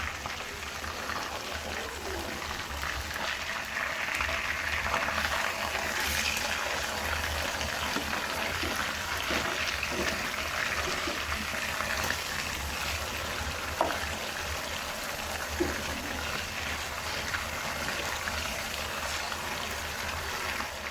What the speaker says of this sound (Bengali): এটা খুবই আস্তে আস্তে ভাজা হচ্ছে উপরের